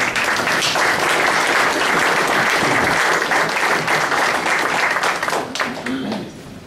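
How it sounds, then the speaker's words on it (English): An audience at a county touchdown club meeting gives Coach Harold Nichols loud, sustained applause. The dense clapping holds strong, then thins and fades near the end as a few last claps trail off. "So, round of applause for Coach Harold Nichols."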